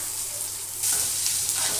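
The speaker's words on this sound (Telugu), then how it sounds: "పచ్చిమిర్చి వేగుతున్నాయి." Green chilies fry in hot oil with a steady, close crackling sizzle that grows louder and brighter partway through, with no voices.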